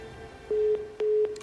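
Two long beeps of a telephone line tone, steady and mid-pitched, sound during a dropped or failed call on a radio broadcast, each followed by a gap, over faint background hiss.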